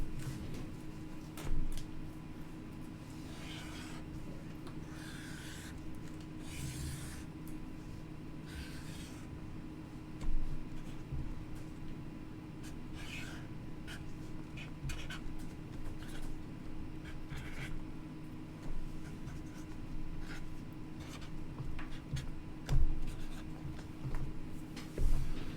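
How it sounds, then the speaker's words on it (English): A pen or pencil scratches out the number 15 on a separate sheet of paper, with intermittent short strokes over a steady low background hum, close and fairly quiet, with no talking. "And I'm going to write 15 on a separate sheet of paper."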